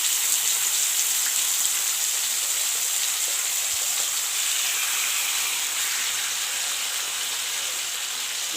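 A steak seared on a griddle with butter and fat gives a loud, steady, dense sizzle that runs unbroken throughout with no voices.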